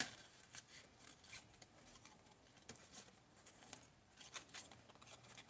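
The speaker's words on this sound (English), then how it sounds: "These snips are awesome for this as well." Small craft snips cut card stock for a handmade card, giving quiet, close, crisp snipping and rustling clicks in an uneven run with no talking.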